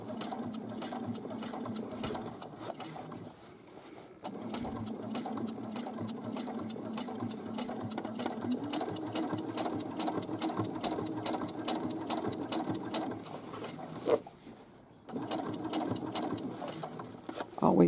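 A sewing machine stitches a pocket onto a fabric bag with a steady rapid whirring and clatter, stopping briefly twice before starting again.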